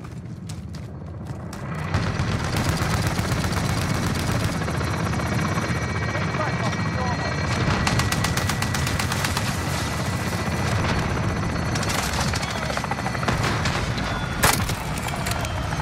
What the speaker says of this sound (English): Enemy chopper gunner on the